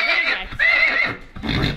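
A horse at a trotting track gives loud, close neighs in two long quavering whinnies, followed by a rougher burst of snorting noise, with no talk over it.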